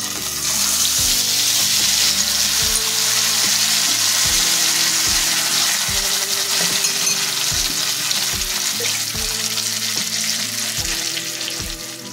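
A ground spice paste hits hot oil with garam masala in a pan for shahi paneer, giving a loud, steady close sizzle throughout with faint regular tapping underneath.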